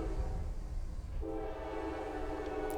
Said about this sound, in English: this train keeps going by